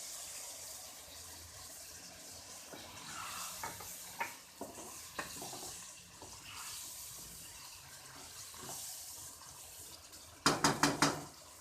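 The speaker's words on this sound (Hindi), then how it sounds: "थोड़ा सा पानी डालेंगे हम इसमें और इसको दम पे लगाएंगे" Fried tinda (apple gourd) for a chicken tinda curry sizzles and is stirred in a pan, with soft scraping clicks, then a sharp loud hiss of bursts as water is added near the end.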